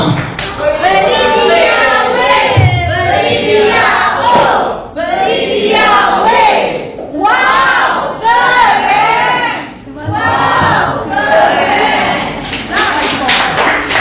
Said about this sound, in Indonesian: Oke, tepuk tangan untuk kelompok berapa ini?